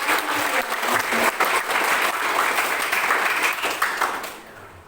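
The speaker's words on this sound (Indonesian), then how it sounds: "Kita berikan tepuk tangan" Audience at a high school student council candidate debate applauds steadily for several seconds, a dense wash of many hands clapping that fades out at the end.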